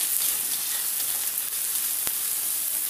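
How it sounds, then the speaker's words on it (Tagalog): Dried prawns fry in a pan with a steady, bright sizzle that stays close and even, broken by one sharp crackle near the end and no talking. "Fry lang natin siya"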